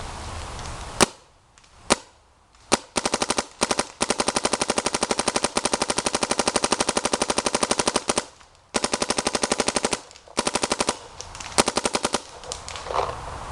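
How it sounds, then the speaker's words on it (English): A Clone GT blaster fires long, rapid full-auto bursts, a dense mechanical rattle of shots repeated in several strings with brief pauses between them, loud and close with no talking. "Alright, I'll shoot the Clone GT."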